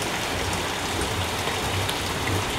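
Steady rain falls heavily and evenly, a continuous close wash of drops on surfaces with no pauses.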